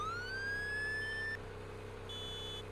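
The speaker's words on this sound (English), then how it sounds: "All right, siren. How do I turn it on? There we go, X." A vehicle siren from the video game Farming Simulator 19 gives one loud, close rising wail that cuts off abruptly, then a short, steady electronic tone follows.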